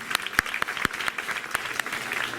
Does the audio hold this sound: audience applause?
yes